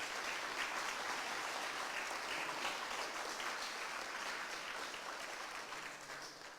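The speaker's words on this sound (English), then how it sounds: "Let's give ourselves another round of applause." Symposium audience applauding, a dense, sustained clapping from a large room that holds steady and begins to taper off near the end.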